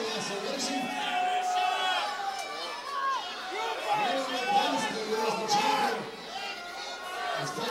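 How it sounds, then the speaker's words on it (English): A wrestling crowd at a steel cage match cheers and chants in a dense, rolling roar of many voices, swelling and dipping throughout, with a commentator talking over it. "They're cheering for him. They're cheering his name."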